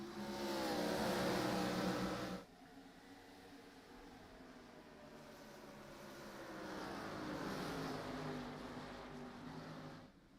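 Race cars roar around the oval at Indianapolis Raceway Park, a loud engine drone that drops off sharply, then swells again as the pack passes, continuous and moderately distant.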